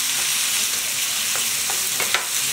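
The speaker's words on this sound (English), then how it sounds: "Then mix around with the prawns." Garlic and prawns sizzle in a pan with a steady hiss as a utensil stirs them, a few scraping clicks of the spatula coming through near the end; close and fairly quiet, no voices.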